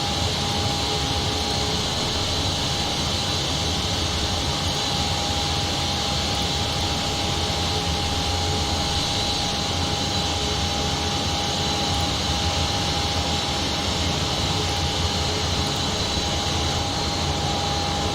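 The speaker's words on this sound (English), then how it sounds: "wait for engine 1 to start" Engine 1 of a PMDG 737 spooling up in the P3D flight simulator video game, a steady loud jet whine with a sustained tonal hum over constant broadband roar, heard alone.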